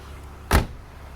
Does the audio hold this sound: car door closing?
yes